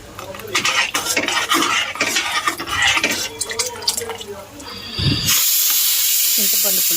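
Pumpkin tamarind curry with jaggery simmering in a pan, with clinks and scrapes of a stirring utensil through most of it, then a steady loud hiss of bubbling and steam at the end.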